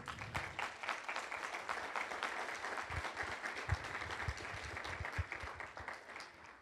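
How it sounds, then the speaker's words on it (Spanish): A church congregation applauds in a dense, steady patter of many hands that holds for several seconds, fairly quiet and reverberant, before thinning out. "Dele fuerte el aplauso a Cristo."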